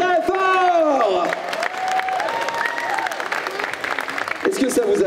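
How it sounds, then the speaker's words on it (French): Clapping and cheering from a crowd after a Disney concert at a geek convention, with voices shouting and calling out over the applause throughout. "On peut les applaudir très très très très fort."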